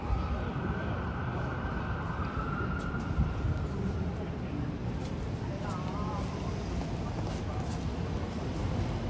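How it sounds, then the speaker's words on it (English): An emergency vehicle siren wails on a city street in the Yorkville area during a breezy evening. It rises and falls faintly in the distance, partly masked by steady wind and traffic rumble. "And there's another annoying siren."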